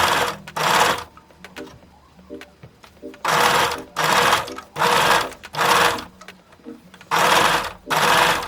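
Sewing machine running in repeated bursts of about half a second to a second each, stitching seams on a cotton t-shirt, loud and close with short quiet gaps between runs.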